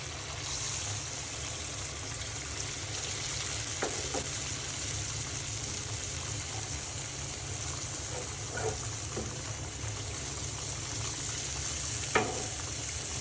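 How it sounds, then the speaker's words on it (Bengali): Hilsa fish and taro curry cooking in a pan, giving a steady low sizzle with a few soft clinks and stirring scrapes, no talking. "এখন আমি রান্না করার জন্য ঝোল দিয়ে দিব।"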